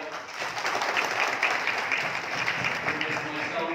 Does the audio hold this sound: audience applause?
yes